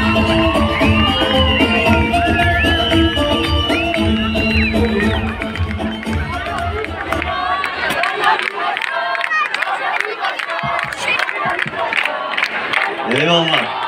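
A loud crowd greets Bahçelievler mayor Dr. Hakan Bahadır's entrance with shouts, whoops and cheering. Music plays at first, then the cheering carries on amid bursts of voices.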